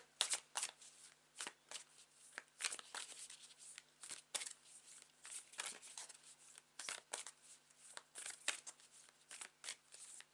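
A tarot deck is shuffled in quick, repeated riffles of crisp card flutter, soft and close in a quiet room, with short pauses between bursts and no talking.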